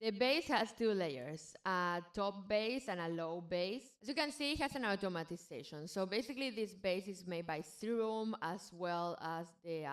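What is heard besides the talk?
None of the usual background noises is heard.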